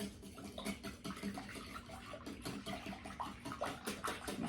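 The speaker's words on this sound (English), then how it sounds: "And you're going to whisk that all together" A whisk beats an egg into pancake batter in a bowl, a quiet wet rhythmic slapping and ticking against the sides that repeats quickly and evenly.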